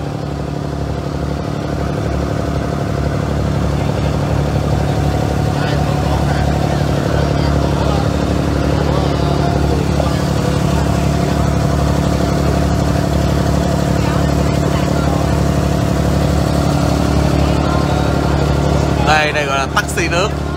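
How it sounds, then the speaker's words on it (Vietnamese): Steady, loud engine drone of a Dubai water taxi boat on a sea creek, a constant low rumble that holds unbroken for about nineteen seconds before a short burst of voices at the end. "Đây gọi là taxi nước,"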